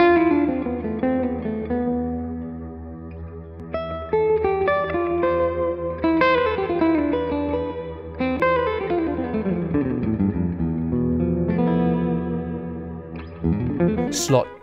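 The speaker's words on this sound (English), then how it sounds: "Slot 1 has a sustainer complete with an always-on reverb" Sustained electric guitar notes through a sustainer pedal with always-on reverb ring out with long, smooth sustain and a wash of reverb and echo, phrases gliding and swelling across the passage.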